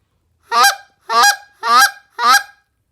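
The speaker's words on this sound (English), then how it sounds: "That was a buzz cluck" Four short, evenly spaced buzzy clucks blown on a goose call, each a quick honking burst with a rasp, loud and close with silence between them.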